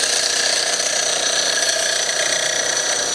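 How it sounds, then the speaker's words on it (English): Continuous high, gritty abrasive hiss of a coarse, wet pad sanding a glass bottle rim, constant level throughout with no pauses or voices. "Putting a little bit of water on my pad, I'm gonna start sanding."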